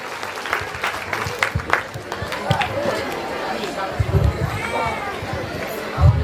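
A crowd applauds at a Golden Jubilee celebration, clapping coming in uneven bursts with some louder peaks, mixed with chatter and a few voices over it.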